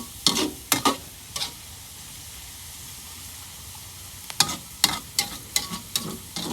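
Goat tripe fries in a pan under a steady sizzle, as a utensil scrapes and stirs in sharp clusters of strokes near the start and again toward the end.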